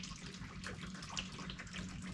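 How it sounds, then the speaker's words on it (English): Used hydraulic oil drained from a Kubota pours from a 5-gallon bucket into a 17-gallon VEVOR drain pan with an electric pump, a faint, continuous gushing trickle with no voices. "I'll go ahead and pour a 5-gallon bucket in, and while it's pumping it out, I'll pour the next one in."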